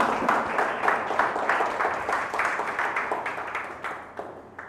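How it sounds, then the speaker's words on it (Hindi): A church congregation claps loudly together in a sermon, dense rhythmic applause that gradually fades out. "जोरदार ताली से प्रभु को धन्यवाद देते हैं"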